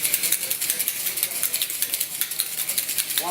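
A cocktail shaker holding egg white and a strainer spring is shaken hard, making a fast, even rhythm of bright metallic rattles close to the microphone, with no voices.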